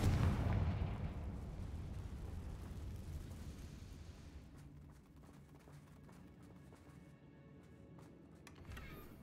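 A Confringo fire spell in Hogwarts Legacy lets off a loud, booming blast at the start, which rolls away into a long, fading rumble with scattered crackles.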